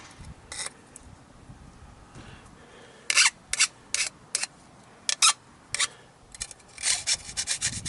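Short pieces being sawn off entrance screens: a series of brief, crisp rasping strokes, some single and some in quick clusters, close and fairly loud over a quiet background.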